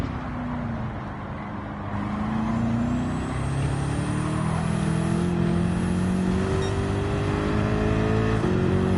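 Car engine in Gran Turismo 7 racing at Daytona, droning loudly and steadily with rising revs and gear changes throughout, other cars faintly audible alongside, no talking.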